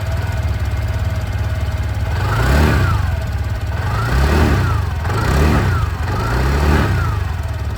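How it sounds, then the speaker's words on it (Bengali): A TVS Jupiter 125 scooter with a metallic muffler cover hums at idle, then revs up several times in repeated swelling pulses, each rising and falling in pitch, loud and close with no talk. "চলুন তবে এর যে এক্সস্ট সাউন্ড সেটা আপনাদের শুনি"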